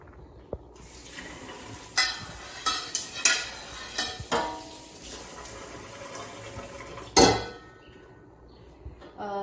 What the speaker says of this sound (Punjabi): ਤਵੇ ਨੂੰ ਧੋ ਲਈਏ